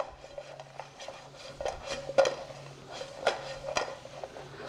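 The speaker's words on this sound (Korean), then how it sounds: "여기에 마늘 넣고, 그리고 다진 아몬드 넣고 한번 살짝 볶아주시고 끝." Garlic and chopped almonds are stir-fried with sweet potato, a utensil scraping and clinking against the pan in quick irregular strokes over a soft background sizzle, close and moderately loud.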